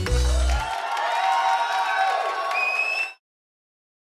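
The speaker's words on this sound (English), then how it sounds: "I love that he had to throw in applause at the end and cheers" Applause and cheering from a crowd swell loudly for about three seconds, dense clapping with whoops over it, then cut off abruptly into silence.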